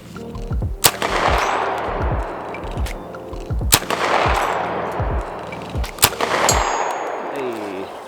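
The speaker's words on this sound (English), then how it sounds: "I typically don't shoot guns like this at distances like this, but let's just try it," An UZI PRO pistol fires at a target 100 yards away: several sharp, loud single shots spaced a few seconds apart, each followed by a long ringing echo across an open range.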